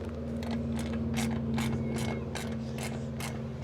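Tightening bolts on an e-bike seat for a heavier rider: a steady run of ratcheting clicks, about eight to ten quick mechanical bursts in an even rhythm over a constant low hum, close and moderately loud, with no talking.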